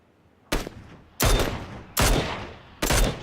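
A Mini 14 rifle firing four sharp, loud shots at intervals of under a second, each blast followed by a brief echoing decay.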